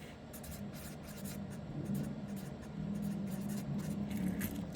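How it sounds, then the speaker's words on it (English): A pen writing by hand on paper gives a faint, steady scratching that runs unbroken with small strokes and pauses, close but quiet against a low background hum, with no voices. "So I'm going to see if I can write it there."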